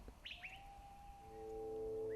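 Faint bird calls, toucans, with two quick chirps near the start followed by a long, steady whistled tone, quiet and distant with no talk.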